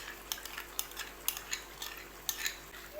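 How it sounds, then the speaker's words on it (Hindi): Spoon scraping and clinking around a pot as cream and sliced ginger are stirred into chicken curry, with sharp irregular taps over a soft continuous swish, close and moderately quiet. "इसको अच्छे से मिक्स कर लेंगे"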